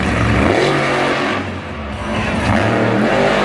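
At Monster Jam Salinas 2019, the monster truck Devastator's engine roars loudly and continuously during a slap wheelie, dipping briefly mid-way before revving back up.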